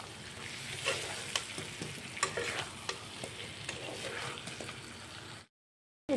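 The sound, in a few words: stirring chicken and potatoes with garam masala in pan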